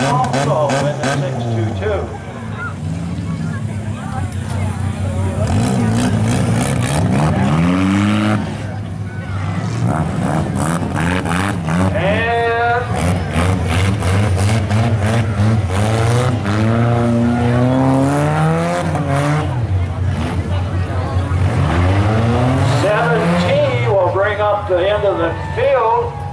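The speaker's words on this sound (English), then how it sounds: "622 on a roll, Matt Keller behind the wheel." Compact cars race a figure-eight heat at Farwell, a Buick among them, with engines revving, roaring and rising in pitch under continuous announcer commentary, plus occasional tire squeals and passing engine surges.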